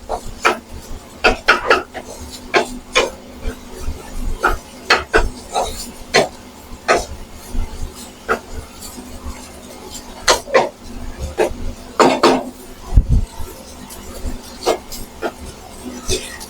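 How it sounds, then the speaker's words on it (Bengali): Carrots and long beans are stirred in a pan with a spatula for black fried rice, making repeated scraping and rubbing strokes in an uneven rhythm, close by and fairly loud. "এখন হচ্ছে গাজর দিয়ে ফিউ সেকেন্ড একটু নাড়াচাড়া করবেন।"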